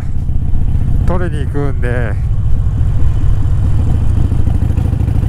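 A Harley-Davidson motorcycle rumbles steadily with a low, loud engine throb while riding, as someone talks over the continuous drone.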